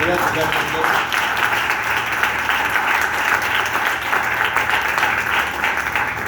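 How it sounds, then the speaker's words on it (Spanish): Loud, steady applause fills a church as the congregation claps for the Lord, a dense wash of hands sustained throughout, with a voice speaking over it near the start. "Dile un fuerte aplauso al Señor"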